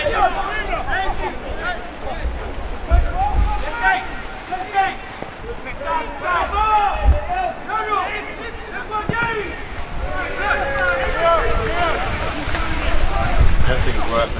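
Wind gusts buffet the microphone at an amateur football match between Biggleswade United and London Tigers, a steady rumbling roar under people talking throughout.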